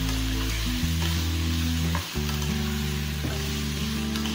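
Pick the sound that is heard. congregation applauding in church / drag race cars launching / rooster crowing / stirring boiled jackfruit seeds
stirring boiled jackfruit seeds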